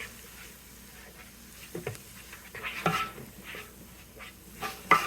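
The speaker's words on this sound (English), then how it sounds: "I'm going to sprinkle in about 2 tablespoons of flour, and then I'm going to mix this up to create a roux" Flour is stirred into sautéed onions in a pot to make a roux, giving soft scraping, stirring and gentle sizzling at close range, with a few louder scrapes.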